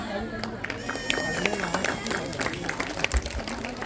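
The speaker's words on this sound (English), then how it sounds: "Please welcome him to the stage with a round of applause" A school annual celebration audience claps for the principal, a steady wash of applause with crowd chatter and voices mixed in, moderately loud throughout.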